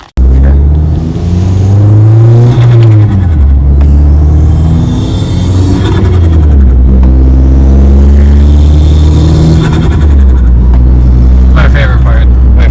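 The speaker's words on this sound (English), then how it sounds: "the COWL intake sounds freaking amazing" A Fiat 500 Abarth with a cowl intake revs hard, engine note climbing and falling in repeated sweeps with a throaty loud rumble, close and continuous, while people talk over it.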